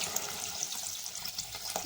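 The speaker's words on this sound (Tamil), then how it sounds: "இப்போ தண்ணி ஊற்றிக்கலாம்" Water poured into a cooking pot while making vegetable biryani, a steady bright rushing splash that runs continuously and close throughout.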